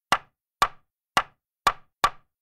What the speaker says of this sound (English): and a hammer.